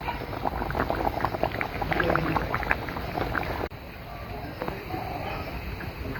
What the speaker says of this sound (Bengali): চুলার মধ্যে মাছগুলো দিয়ে 5 মিনিট খুব ভালো করে ফুটিয়ে নেব